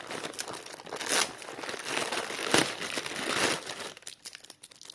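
A package of bought microchips being opened, with dense crinkling and rustling of packaging and a few sharper tearing bursts, close and continuous, no speech.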